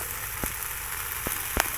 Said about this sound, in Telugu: ఇందులో అయితే కొన్ని తెల్లగడ్డలు కూడా వేసుకోవాలండి. బాగా వేగుతున్నాయి.